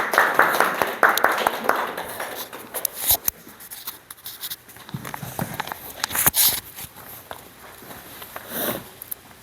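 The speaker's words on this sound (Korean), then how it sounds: "우리 나올 때 우리 환영으로 박수하겠습니다" A church congregation at a weekday worship service claps in welcome. A brief patter of hands thins quickly into scattered claps, then shuffling footsteps and small rustling sounds in a quiet room.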